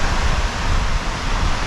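Steady, loud roar of water streaming over the tops of the Claerwen and Craig Goch dams in the Elan Valley, blended with gusting wind buffeting the microphone, continuous throughout with no voices.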